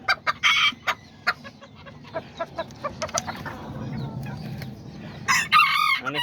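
Small Azteca and Serama chickens cluck in sharp bursts nearby while a rooster lets out a loud crow toward the end, over a low background hum.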